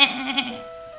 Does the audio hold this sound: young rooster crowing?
no